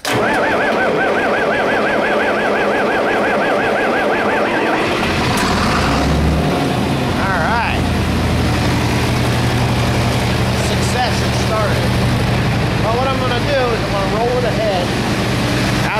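John Deere 4320 tractor, idle for about a month, cranks and catches into a rough, loud idle, with a whine and a rising roar mid-way before settling into a steady rumble; a voice is heard over it.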